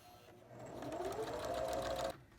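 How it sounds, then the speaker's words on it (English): A sewing machine stitches across quilt binding scraps at a quarter-inch seam, a close, steady mechanical whir that speeds up briefly for about two seconds, then stops. "Then I just pick my next scrap and I'm going to sew across again."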